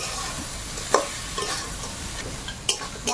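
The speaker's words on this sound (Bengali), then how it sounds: "মশলাটা ভালো করে ভেজে নিয়েছি, এখন এর মধ্যে কাঁকড়াটা দেব," River crab is stirred into spice paste frying in a pan. A steady close sizzle runs throughout, broken by two or three brief scrapes and clinks from the spatula.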